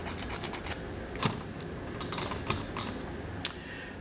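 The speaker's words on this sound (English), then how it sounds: "so it's just a regular nail file" A regular nail file rasps across natural nails being shaped into a stiletto point, a close, soft scratchy scraping in quick repeated strokes with a few sharper clicks, no talking.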